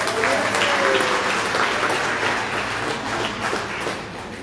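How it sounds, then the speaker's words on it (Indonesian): An audience claps for Pak Edi at the opening of the Indonesian Diaspora Congress in Nusantara, a full, loud burst of applause that slowly thins toward the end, with a low hum and murmur beneath. "Tepuk tangan untuk Pak Edi."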